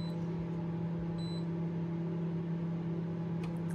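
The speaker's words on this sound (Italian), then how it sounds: "nel frattempo sto facendo scaldare il latte in microonde." Microwave oven running while heating milk, a steady close hum with a faint electronic beep partway through.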